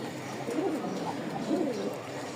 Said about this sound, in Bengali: ফাটাফাটি ডাকের একটা কবুতর